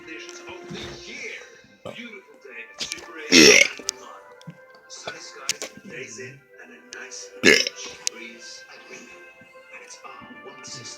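Two loud burps ring out during a casual burp contest between two young guys, the belches separated by several seconds of chatter and background talk.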